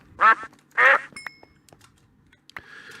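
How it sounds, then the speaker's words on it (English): Ducks in a Minecraft-style video game quack twice loudly in close succession, followed by a few faint clicks and a softer third quack near the end. "Obviously, these are ducks."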